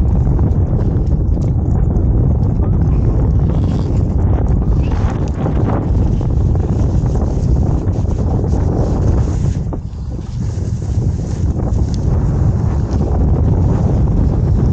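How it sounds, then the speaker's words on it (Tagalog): Strong wind buffets the microphone at a fishing spot at Baseco, a constant loud roar of rushing noise that barely eases for the whole stretch, with no voices. "Lakas ng hangin."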